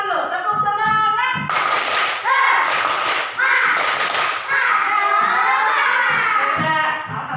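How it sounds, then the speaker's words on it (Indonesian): A class of children in a school lesson performs a rhythmic clapping chant, with their sing-song voices broken by several sharp bursts of loud group clapping in a steady pattern. "Kita tepuk semangat dulu."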